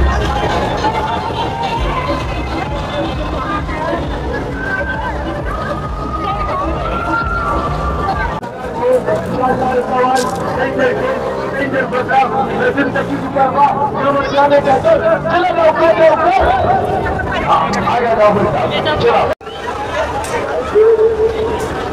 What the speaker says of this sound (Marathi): रस्ता काढत काढत गर्दीतून चाललंय बघा आता